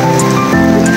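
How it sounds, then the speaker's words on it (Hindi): A brief burst of heavy rain in Abbottabad pattering steadily on a surface, with a faint tonal hum underneath. "इंतहाई तेज बारिश"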